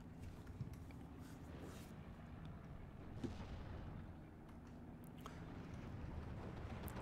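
60 mm mortar fire in the Steel Division II game with America vs Germany, heard as a steady low rumbling battle din with faint distant thumps and a few sharper hits, no talk.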